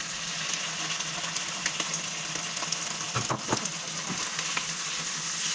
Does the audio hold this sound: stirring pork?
yes